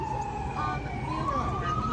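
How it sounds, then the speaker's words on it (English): An ambulance siren passing on a city street, a loud wailing tone that sweeps up and down over low traffic rumble. "Soon as the ambulance clears"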